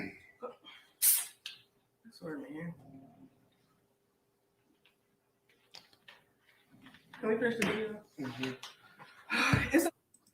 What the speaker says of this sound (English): This man was coughing. He was coughing on the camera.